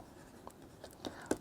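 Someone writes a word on a board, producing a few faint, brief scratching strokes at an irregular pace, quiet and close, with no talk.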